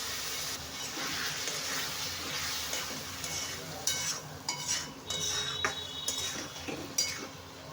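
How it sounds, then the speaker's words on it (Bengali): Ground tomato paste, blended in a mixer, sizzles as it goes into a frying pan for Bengali fish kalia. A spoon stirs and scrapes with light clinks against the pan, growing busier in the second half. "আমি এই টমেটো বাটাটা দিয়ে দেবো।"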